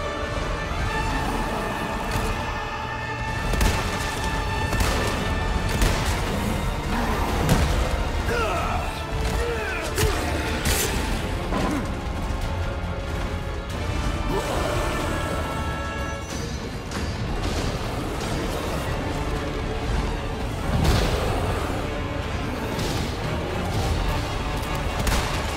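Grenade blast in Resident Evil 4 Remake during a boss fight with twin giants, a heavy crash and booming impacts buried in a dense, loud wash of combat noise, music and effects.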